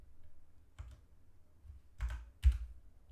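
Sparse keystrokes on a computer keyboard, a few soft clicks and taps spread over a few seconds, close and quiet with no talking.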